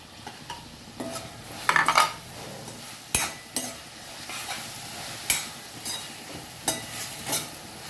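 Tomatoes tipped into a hot pan for tomato rice and stirred, giving a steady oily sizzle broken by several sharp clanks and scrapes of a spoon against the pan, close by with no talking.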